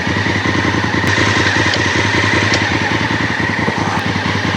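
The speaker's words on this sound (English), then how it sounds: "turning big ADV bikes on slopes is somewhat of a task" A Honda Africa Twin adventure motorcycle idles with a steady, rapid, loud and close engine pulse on a sloped trail as the heavy bike is turned, with no voices.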